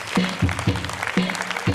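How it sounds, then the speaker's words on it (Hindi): A congregation at a church Christmas program in Madaripur claps to welcome guests, a steady round of applause with a voice speaking over it in short bursts. "मेरे साथ सभी लोग ताली बजा करके उन सबको स्वागत करें।"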